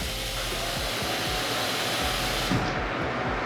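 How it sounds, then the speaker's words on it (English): A bathroom exhaust fan runs in a guest bathroom, giving a loud, steady broadband whoosh that holds throughout and drops off near the end. "So the exhaust fan works."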